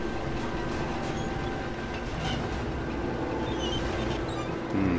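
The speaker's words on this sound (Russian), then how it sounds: "поднимется та корзина и поедет вагонетка" Minecart rolling along rails in a mine level of Rise of the Tomb Raider, a steady continuous rumble with rhythmic rail clatter that stays loud and even throughout, no voices.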